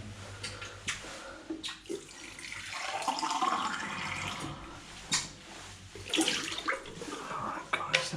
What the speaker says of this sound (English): it's increasing the amount that the tap's dripping